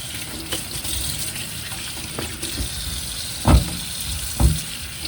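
Peeled potatoes rinsed under a running kitchen tap, a steady broadband rush of water with a couple of louder splashing bursts near the end as the stream hits the potatoes and sink.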